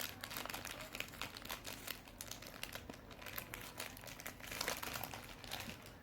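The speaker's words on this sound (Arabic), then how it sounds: "قدرت تفتح الكيس" Plastic bag being torn open and crinkled close up, a soft crackling that keeps going, with no talking.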